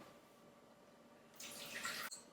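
A short splashing gush of water poured for bread dough, starting quietly then rising for under a second before cutting off, faint and close with no talking.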